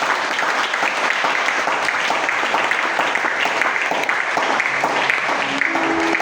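A church congregation at an evening worship gathering applauds in praise of the Lord, a dense, steady wash of clapping hands that holds loud and even throughout, with faint voices and a few sustained tones mixed underneath.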